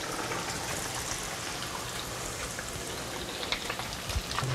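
Beer-battered Pacific cod fillet sizzling in a deep fryer, a steady dense crackle of hot oil with small pops, continuous and close, no talking.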